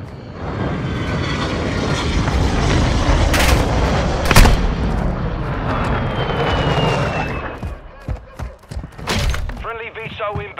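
An incoming cruise missile strike in a first-person shooter game arrives as a loud roaring jet-engine rush over heavy gunfire and sharp blasts, then breaks into cracks and rattling debris, with a radio voice talking over it.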